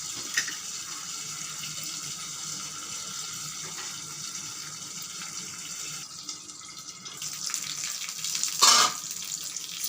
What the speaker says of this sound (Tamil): கருவேப்பிலை போட்டோன்னா தெளிக்குது, அதனால் மூடிடலாம்.